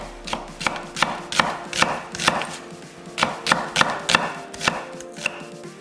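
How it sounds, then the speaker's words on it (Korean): A knife cuts half an onion into thick strips on a board. About a dozen crisp, evenly spaced chops land close to the mic, with no talking. "양파 반개 굵게 채 썰어 담고"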